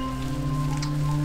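Rain falling in a Minecraft-style block game, a brief steady patter and hiss layered under humming background music tones, no voices.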